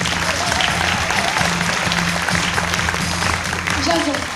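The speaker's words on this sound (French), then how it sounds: "On applaudit Jason Tyran" Audience applause greeting a game show contestant, a dense steady wash of clapping with music or voices running underneath.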